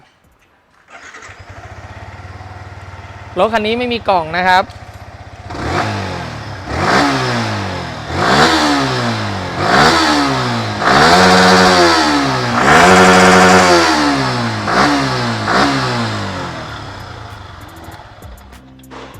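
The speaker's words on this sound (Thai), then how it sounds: "จะติดเครื่องให้ดู" A Yamaha R15 motorcycle engine cranks and catches after a short starter whine, then revs repeatedly in rising and falling surges, loud and close, idling steadily between.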